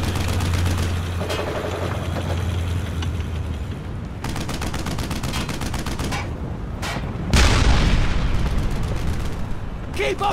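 Gunfire and explosions in the Brothers in Arms: Hell's Highway video game trailer: dense, loud rapid shots in bursts, with a heavy blast near the middle and a steady low rumble beneath.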